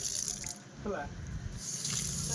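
Water runs steadily at a foot-washing area outside a temple, a continuous close gush like an open tap or spout, with voices talking over it.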